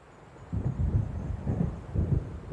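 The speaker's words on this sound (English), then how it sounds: "It seems there's a storm coming." Low rolling thunder from an approaching storm in the video game Alan Wake rumbles in several swelling waves over a faint steady background, with no voices.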